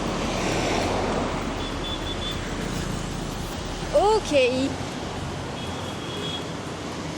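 Busy street in Da Nang, Vietnam, with a steady wash of traffic and wind noise, a car passing close by, and a brief vehicle horn sounding midway; a voice speaks briefly.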